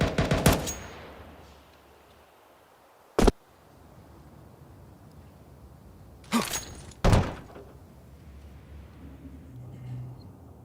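A few sharp gunshots from AK and MAC-10 weapons in a Counter-Strike match: one isolated crack, then two closely spaced bursts a few seconds later, all over a low background rumble with no talking.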